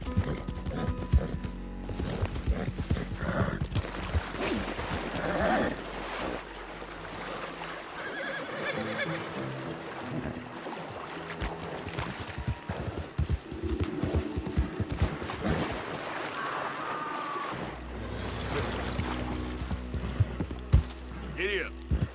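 Horse hooves clip-clopping at a steady gallop-like rhythm in Red Dead Redemption 2, running through most of the stretch beneath game music and voices, with a brief whinny possible.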